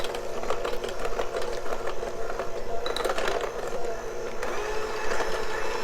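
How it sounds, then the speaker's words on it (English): Electric hand mixer beating cream cheese for veggie bars, a steady motor whir running throughout with irregular scraping bursts as the beaters churn the thick mixture. "I'm going to take my electric hand mixer, and I'm just going to mix this together"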